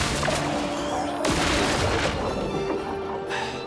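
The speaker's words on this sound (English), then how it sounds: "Explosion." Explosion during a turn-based battle in the video game Clair Obscur: Expedition 33, a loud sustained burst of crashing, rumbling noise filling the clip, with a fresh blast partway through and battle effects continuing.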